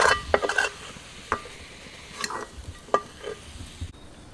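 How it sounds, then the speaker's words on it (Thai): Minced garlic frying in lard, with sharp utensil scrapes and stirring clinks over a quiet sizzle in a nearby pan, the strokes irregular and spaced. "กระเทียมสับ ก ระเทียมเจียวเหลืองแล้วนะครับ เอาออก"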